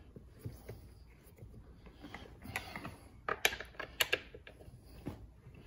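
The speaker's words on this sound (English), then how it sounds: "I'm gonna use the Allen wrench to make sure it's tightened down all the way." Office chair bolts tightened with an Allen wrench during chair assembly, producing faint, close metallic ratcheting clicks and small taps in quick irregular bursts against a quiet room.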